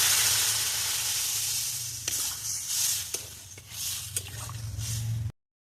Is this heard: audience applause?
no